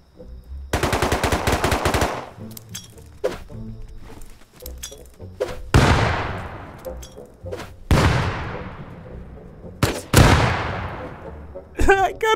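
Grenade blasts and bursts of gunfire in the video game Rust, several loud explosions each trailing off into echoing decay, spread across the stretch with short gaps between them.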